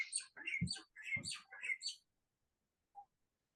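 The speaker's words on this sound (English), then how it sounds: "Oh, it's a loud bird." Loud bird calls heard from outside during an indoor meeting, a burst of several sharp chirps over about two seconds, then a single faint call after a pause.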